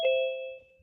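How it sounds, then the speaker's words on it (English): A single electronic ding-dong chime rings out clearly, its two clean tones sounding at once and then fading smoothly over less than a second. "I heard a ding dong."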